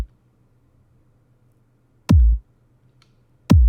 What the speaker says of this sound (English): I was just dragging in like a basic EDM kick drum